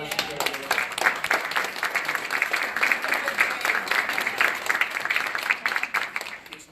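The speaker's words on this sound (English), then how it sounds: "Can we give the Senator a round of applause?" Applause for a senator at a community service launch event, a crowd clapping steadily throughout with some mixed voices underneath.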